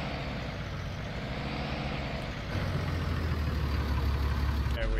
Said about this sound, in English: All right, just driving on over to his lift here.